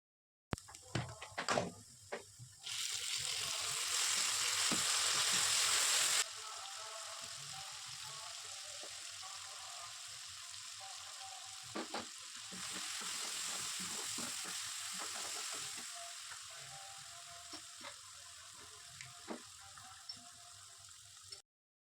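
Chopped onions with asafoetida sizzle in a hot pan, with two stretches of loud frying hiss broken by scattered clicks and scrapes of stirring.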